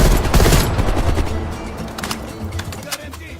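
Automatic gunfire rattles in a rapid, loud burst in the Call of Duty: Cold War video game, dense at first and then thinning into scattered shots over background battle noise.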